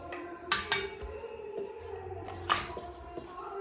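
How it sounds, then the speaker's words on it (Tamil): Chicken pieces for KFC-style fried chicken are moved from one cooking vessel to another, giving a few sharp metallic clinks and scrapes of utensils against pots, with no voices. "அந்த பாத்திரத்துல இருந்து இந்த பாத்திரத்துக்கு டிரான்ஸ்ஃபர் பண்ணுங்க."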